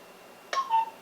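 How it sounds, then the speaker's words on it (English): A short electronic notification tone from a doorbell camera app during device pairing for a Laxihub B1 WiFi video doorbell: a brief burst followed by two clean tonal notes, near and alone in a quiet room. "Notification tone heard."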